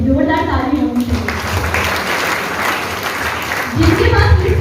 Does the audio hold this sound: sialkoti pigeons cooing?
no